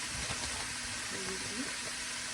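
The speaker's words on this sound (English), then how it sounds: "So I'm gonna saute those." Food sautés in a hot pan while curry chicken is cooked for a large family, giving a steady, loud, dense sizzle throughout with a faint voice murmuring underneath.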